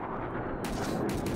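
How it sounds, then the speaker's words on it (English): Gunshots in a realistic survival video game, a burst of rapid, loud, dense cracks and booms coming from hidden enemies, continuous through the moment. "Oh, we're getting shot at."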